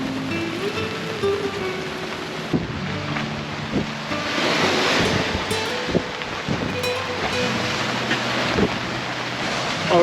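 Surf and wind-driven ocean waves pound during Hurricane Ernesto, a steady rushing roar with gusts of microphone wind noise and a few sharp thuds, loud and close with no talking.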